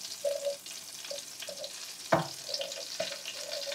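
Tteokbokki is stirred in a pan with soft scraping and light sizzling, broken by a few brief tonal scrapes and one sharper clatter midway; quiet and close, with no speech.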